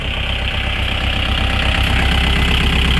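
A Kubota L4708DT used farm tractor's diesel engine idles close by, a steady, even low rumble with a faint knocking pulse throughout, with no voices over it.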